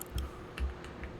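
A few soft, widely spaced keystrokes on a computer keyboard, faint and close, with no voices present.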